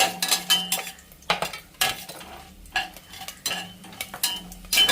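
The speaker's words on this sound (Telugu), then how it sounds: "ఇందులోనే ఒక 10 జీడిపప్పులు, కొంచెం లైట్గా సిమ్లో వేగనిద్దామండి" A spoon scrapes and clinks repeatedly against a pan where cashews fry gently on low heat for chicken biryani, sharp metallic strokes recurring in an irregular rhythm, close and clear with no talk.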